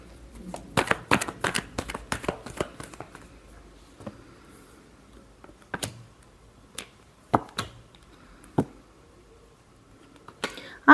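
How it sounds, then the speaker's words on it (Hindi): Tarot cards are shuffled by hand in a flurry of quick, crisp riffling snaps at first, then a few isolated soft slaps and taps spread out over the remaining seconds, close and quiet with no talk. "Last shuffle."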